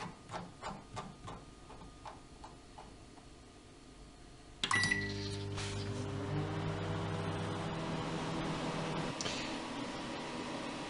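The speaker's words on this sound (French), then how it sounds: "le placer au micro-ondes" A microwave oven running at maximum power for ten minutes, heating vegetables for a sun tart: a door thump, then a steady loud hum with mechanical whir, preceded by light clicks and taps.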